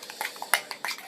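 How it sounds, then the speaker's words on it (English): A utensil mixes chimichanga dipping sauce in a dish, giving quick, light clinks and scrapes in an irregular rhythm. The sound is close and fairly quiet, with no voices. "You want to mix it up nice and good."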